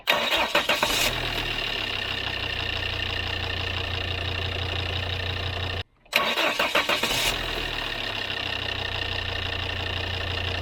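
A Volvo D5 diesel engine is cranked on a new starter motor and catches into a steady, clattering idle nearby, then is shut off and restarted briefly before idling again.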